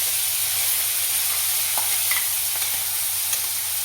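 Ginger, chili and garlic paste sizzles steadily in hot oil with cumin and asafoetida, a constant close hiss with a few faint stirring clicks, no voices.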